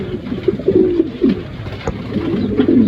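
Several brown pigeons in a breeder's loft coo continuously close by, their low, rolling calls overlapping with faint rustling.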